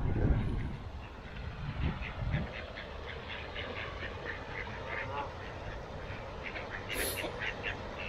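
Ducks being fed in Lock Park in Redcar quack in short repeated bursts at a moderate distance, over steady outdoor background noise with a low rumble at the start and a brief high chirp near the end.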